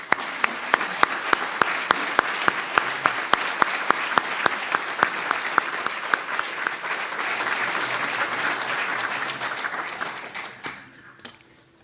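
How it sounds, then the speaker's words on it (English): Audience applause at a Founders' Day ceremony, dense, steady clapping from a large crowd with sharp individual claps standing out, sustained for about ten seconds before fading away near the end. "Would you please join me with a round of applause for those people?"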